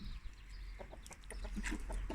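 Chickens fed leftover iftar meal scraps, clucking softly in a farmyard with repeated short calls over a steady low background rumble, no talk.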